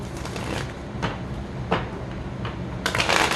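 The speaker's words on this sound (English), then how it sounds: "So I'm going to take 4 shuffles." Riffling playing cards, with a few quick bursts of cards flicking together and a final crisp shuffle, close by and fairly soft.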